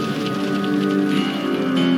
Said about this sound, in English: Bill Bruns watches the hail from the safety of his lodge.